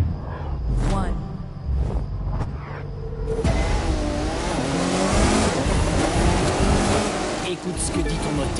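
Car engine in the racing video game The Crew 2, revving and accelerating loudly after a brief quieter start, with a sustained roar and shifting pitch through most of the stretch, under a voice.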